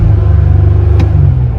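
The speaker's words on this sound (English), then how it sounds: "if I rev, you can hear a note of the exhaust" A 3.6 liter Pentastar V6 in a 2021 Jeep Gladiator Sand Runner revs once, its exhaust note a steady, loud low rumble that rises briefly in the middle.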